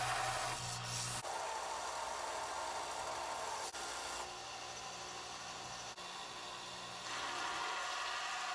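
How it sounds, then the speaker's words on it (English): A tiny knife made from chainsaw chain is sanded in a continuous, close, abrasive rubbing hiss that holds steady for several seconds with slight shifts in pitch and no voices. "time to start sanding"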